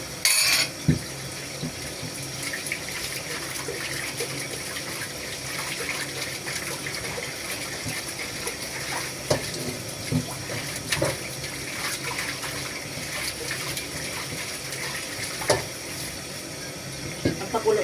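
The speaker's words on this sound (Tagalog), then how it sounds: "Hugasan muna natin ang ating kawali." Tap water runs steadily into a sink while a frying pan is washed underneath it, a continuous splashing gush with occasional knocks and clatters of the pan, heard alone without talk.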